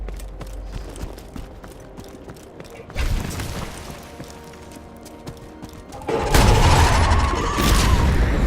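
Explosions go off in the Borderlands 2 video game as a loud burst around the middle and a bigger, longer blast toward the end, both over a busy bed of game noise.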